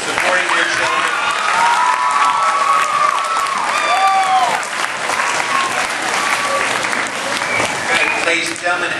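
A loud round of applause from the audience at a swearing-in ceremony, honoring the candidates' parents, with cheering and children's shouts mixed into the clapping and a few whistle-like tones rising through it.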